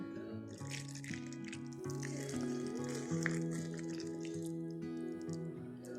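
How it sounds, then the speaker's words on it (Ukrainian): Boiling water pours into a jar of chili peppers, a soft, steady trickle and fill heard faintly beneath background music. "заливаємо кипятком"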